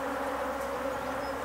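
Honey bees swarm around an opened hive during a beekeeping inspection, a steady, dense buzzing drone that holds close and constant throughout.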